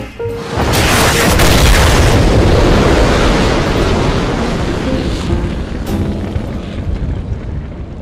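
A building blows apart in a cutscene from the Enslaved video game: a loud, booming explosion that swells within the first second, then rumbles and crackles with falling debris as it slowly fades.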